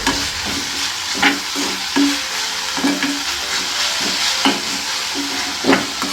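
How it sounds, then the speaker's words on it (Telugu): Curry leaves and coriander frying in a pan for mint chutney, a loud continuous sizzle broken by repeated rhythmic stirring scrapes, alone without talk. "కరివేపాకు కొత్తిమీర కూడా యాడ్ చేస్తున్నాను ఒక టూ మినిట్స్ ఫ్రై చేసుకున్న తర్వాత తీసేసేయాలి"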